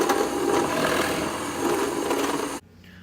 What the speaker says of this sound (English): you're going to drill a hole in the wood at least half of the length of your work